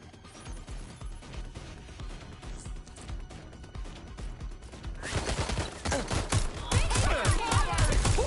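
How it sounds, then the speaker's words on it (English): A burst of gunfire in Watch Dogs, with sharp shots that grow denser and louder toward the end and some crashing mixed in, played under game noise. "Watch out! Shots fired!"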